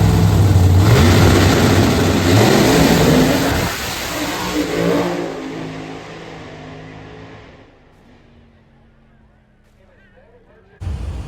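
Drag racing cars at King of the South launch and accelerate hard down the strip, loud roaring engines fading into the distance, followed by a quieter tail and a sudden burst at the end.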